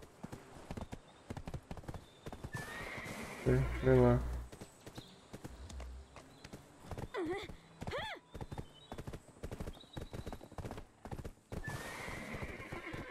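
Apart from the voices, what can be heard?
horse galloping and neighing in video game Black Desert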